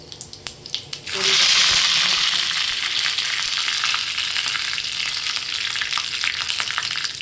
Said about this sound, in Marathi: आणि गरम गरम तेल टाकून घ्यायचं